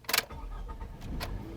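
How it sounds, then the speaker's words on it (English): A car engine cranks and catches when started with the master key: a brief starter whir followed by a low, quiet idle, close by with no talking. "Here's our master key. It starts the engine just fine."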